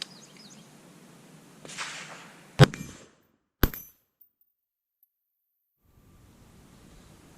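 A PSA JAKL rifle with no suppressor, set to gas position 1, fires two sharp, loud shots about a second apart, each cracking alone and ringing briefly into a quiet outdoor setting.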